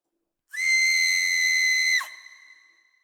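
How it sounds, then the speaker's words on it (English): A loud, sustained high-pitched shriek from an unseen entity in a sci-fi tabletop game, holding steady for about a second and a half before breaking off and trailing away, alone with no talking. "a loud scream"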